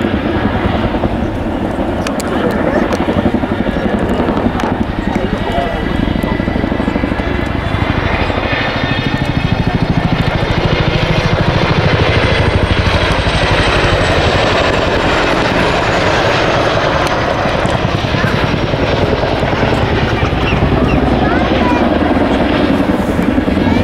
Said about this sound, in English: Raising himself up into a pedal turn where he's going to spin the aircraft,